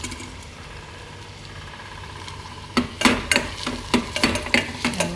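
Garlic frying in a hot pan over high flame while being stirred, a soft sizzle under a series of sharp scraping clacks of the spoon against the pan.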